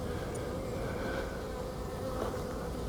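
Honeybees buzzing around an open hive during an inspection, a continuous close, steady drone of many wings with no talking.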